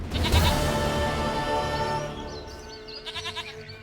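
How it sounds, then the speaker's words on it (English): A goat bleats in The Witcher 3: Wild Hunt, a loud, close, wavering cry near the start that tails off, with in-game music and ambience continuing underneath and a couple of fainter bleats toward the end. "dearest, sweetest goat."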